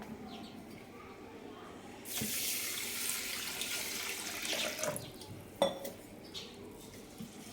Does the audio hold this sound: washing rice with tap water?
yes